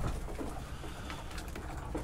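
Pigeons in a loft coo softly under a dense, low background murmur.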